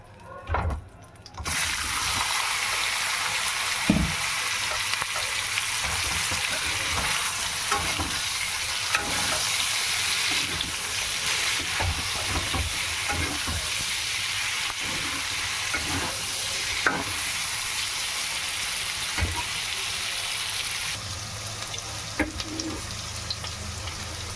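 Kochur loti (taro stolons) fry in oil left from frying prawns, a continuous, close sizzle with frequent clicks and scrapes of a stirring spatula, starting after a brief quiet moment and running without talk.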